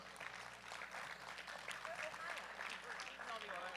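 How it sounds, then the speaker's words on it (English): An audience at a USA Powerlifting meet gives a continuous round of applause, a dense wash of clapping lasting several seconds, with a voice faintly underneath. "A big round of applause for the coolest hairdo in town"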